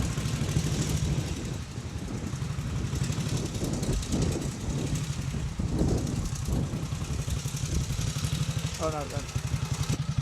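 Engine of a restored 1942 Norton 16H military motorcycle runs steadily nearby with a low, even thump, while people talk briefly over it.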